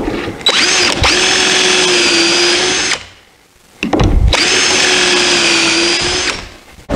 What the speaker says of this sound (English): countersinking my corner block screws, using pocket holes.